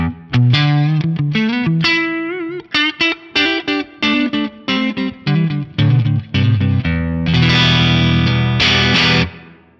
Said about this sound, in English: It's a nice darker sounding reverb.